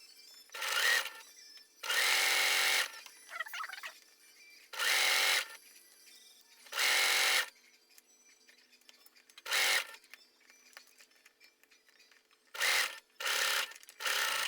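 A sewing machine stitches a waterproof pouch for a reusable pad in repeated short, buzzing bursts of stitching, close by, separated by quiet pauses and faint handling noise.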